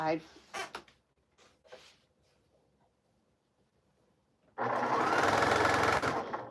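After a few spoken words and a quiet pause, a sewing machine rattles into a fast, steady run lasting under two seconds as it stitches cotton scrap quilt pieces together, close and loud.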